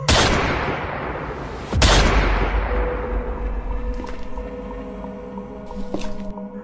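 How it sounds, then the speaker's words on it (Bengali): A single gunshot sound effect rings out in a Bengali supernatural thriller audio story: one sharp, loud crack with a heavy low boom that decays into a long reverberant tail, followed by eerie sustained tones. "সে আবার গুলি করল।"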